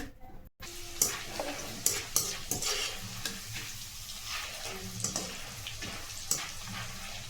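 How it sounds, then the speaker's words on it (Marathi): Split chickpeas frying in hot oil for puffed-rice chivda, a steady close sizzle broken by scraping stirs and clinks of the spoon against the pan, with no talking. "डाळ छान तळून घेऊया"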